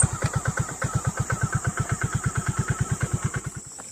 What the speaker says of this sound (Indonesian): Motorku mati-mati teman-teman.